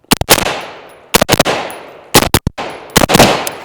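A BRN 180 rifle firing double shots at about seven yards, four loud, close pairs of sharp cracks, each pair trailed by a reverberant decay, spaced about a second apart.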